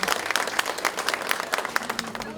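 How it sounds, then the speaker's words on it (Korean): A crowd claps at a Democratic Party campaign launch rally in Daejeon, a quick, dense patter of many hands that stays lively and moderately close for the whole stretch before easing off slightly. "네, 큰 박수 부탁드리겠습니다."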